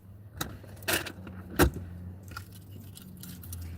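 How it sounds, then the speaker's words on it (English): Keys jangle in short, close bursts near a car after a workout, with a few sharp metallic shakes and clinks over a low vehicle hum. "Keys."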